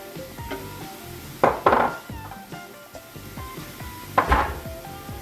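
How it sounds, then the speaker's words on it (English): Mushrooms tumble into a pot of sautéed vegetables for a Bolognese chili, two bursts of clattering and soft thuds against metal over a low background sizzle, with a utensil scraping and knocking in between. "I'm going to add mushrooms"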